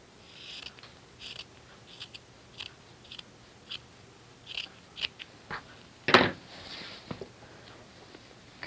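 Scissors trim a fabric seam while flange binding is added to a sewing project, giving a scattered series of short, quiet snips at an uneven pace, with one sharper, louder cut near the end and no talking.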